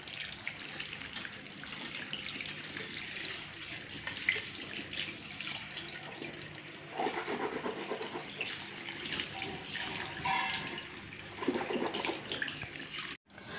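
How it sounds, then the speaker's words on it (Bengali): Tap water running into a sink during face and mouth washing at home: a continuous, fairly quiet splashing flow with small changes as hands move through the stream. "আমি মুখটা ধুয়ে নিচ্ছি"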